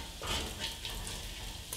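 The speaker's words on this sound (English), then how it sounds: "You can always let it really crisp up and let it brown" Bacon crisping and browning in its own fat in a pan, a soft, steady frying sizzle with faint crackle, close and fairly quiet over a short stretch, no voices.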